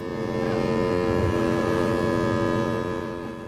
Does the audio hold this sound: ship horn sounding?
yes